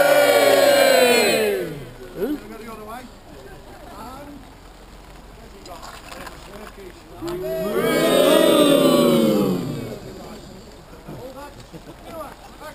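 Loud cheering crowd rising twice, near and full, with talk in between, at an outdoor Border Morris mummers' play featuring St George.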